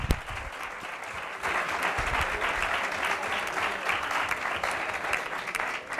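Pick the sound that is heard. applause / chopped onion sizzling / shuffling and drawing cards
applause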